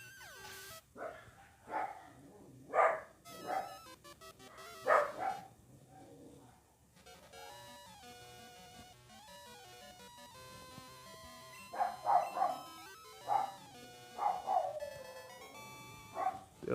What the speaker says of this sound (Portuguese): É o dog da rua.